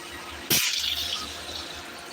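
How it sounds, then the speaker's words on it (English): Air and a little water suddenly spurt out of a hose in a sharp, hissing burst. A splashy, gurgling trickle follows and fades against a quiet background, with no talking. "There's the air and a little bit of water that came with it"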